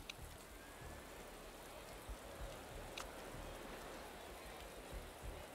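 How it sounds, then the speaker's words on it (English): Rain in the Motorsport Manager racing game makes a steady, soft hiss of falling drops on a surface, with faint scattered ticks throughout. "It's just gonna keep raining."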